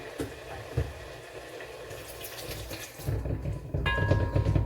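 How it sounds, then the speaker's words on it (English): Quiet kitchen sounds give way to a steady, rushing stream of plain water being poured into a pot for chickpea pasta, growing fuller toward the end. "I'm going to add a tad more water"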